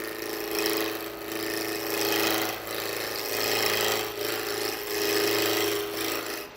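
A roughing gouge cuts wood spinning on a lathe, producing a loud, continuous rasping roar with a low motor hum beneath, swelling and easing in slow waves as the tool passes across the piece.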